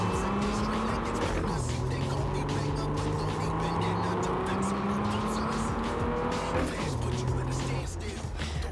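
Car engine in Cyberpunk 2077 holding a steady drone with shifting gear-like pitch sweeps and occasional tire squeal, loud and continuous throughout.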